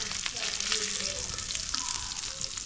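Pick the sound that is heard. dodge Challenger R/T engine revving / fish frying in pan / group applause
fish frying in pan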